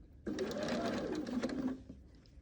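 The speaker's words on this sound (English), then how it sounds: "I'm going to sew this seam together" A sewing machine stitches a quilt seam in a short, rapid whirring burst of about a second and a half, close and clear, then winds down into quiet.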